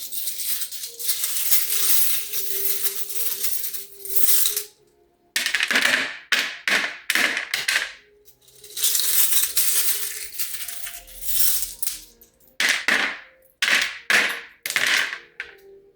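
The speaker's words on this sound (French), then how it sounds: "je vais mélanger les charms et les dispatcher sur la planche" A handful of small divination charms shaken together and tossed onto a board, with long rattling clatters broken by pauses and bursts of sharp separate clicks and taps as the pieces land and settle, close and fairly loud, with no talking.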